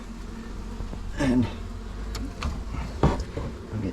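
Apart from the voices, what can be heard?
bees buzzing behind a chimney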